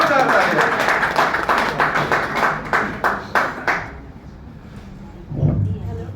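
Audience clapping breaks out for a poet reciting at an evening Hindi poetry gathering, a dense burst of hands that thins and fades by about four seconds, followed by a brief low rumble near the end.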